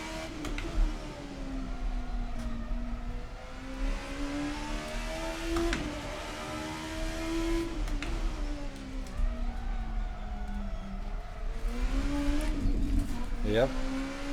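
The Oldbac Kalana racecar drives in Assetto Corsa, its engine droning and rising and falling steadily through gear changes with a few brief sharp bumps, while someone talks over it.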